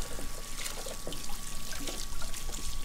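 Running water splashes steadily into a sink as dishes are washed in a video game, a loud continuous pouring and trickling stream with no speech over it.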